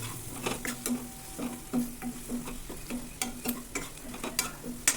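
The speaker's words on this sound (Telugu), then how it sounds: "ఇవన్నీ మసాలాలు చక్కగా ఫ్రై అవనియండి" Garam masala and cumin powder frying in a pan for green chicken curry, a steady sizzle with repeated scraping stirs of a spoon and occasional clinks, close and continuous without talk.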